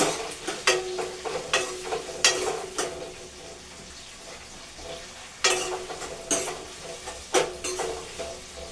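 Ingredients fry in a pan under a soft, constant sizzle, broken by repeated sharp scraping and clinking strokes of a spoon stirring against the metal, in bursts with short gaps between them.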